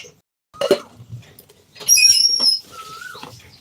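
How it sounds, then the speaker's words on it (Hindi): An Asian koel calls outdoors with a few clear, high whistled notes, followed by a lower drawn-out tone, over faint background noise. "कोयल बोल रही है जी।"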